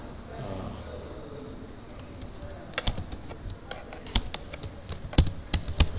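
Keys clatter on a computer keyboard as code is typed into Excel work with the openpyxl module, starting as scattered taps about halfway through and quickening into irregular close clicks under a faint room hum.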